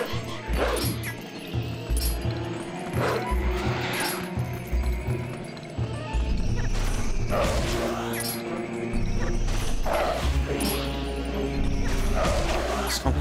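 A dog in the video game Zelda Twilight Princess HD barks and yips repeatedly over game music, with crashing and clinking effects in between.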